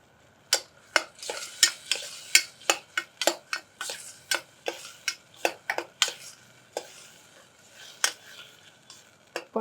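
Millets being stirred while dry-roasting in a pan with salt and turmeric: a steady series of sharp scraping and clacking strokes of the spoon against the pan, about two per second, close and clear, with no talking.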